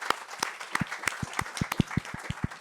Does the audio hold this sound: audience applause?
yes